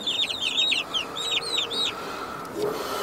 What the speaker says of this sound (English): And in here we have 8 Rhode Island red chicks.